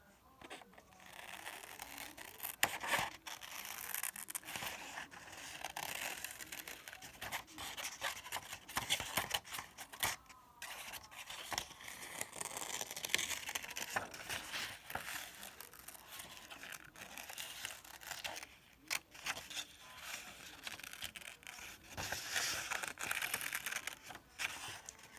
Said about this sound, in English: I'm going to cut out my snowman